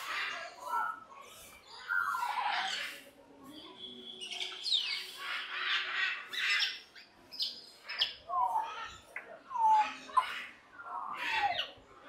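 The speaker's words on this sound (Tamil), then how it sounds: "African grey parrot." An African grey parrot at Water World in Kelaniya, Colombo, lets out a series of sharp squawks, chirps and whistles in irregular bursts, fairly close and clear against a quiet background.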